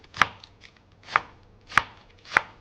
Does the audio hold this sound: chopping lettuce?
yes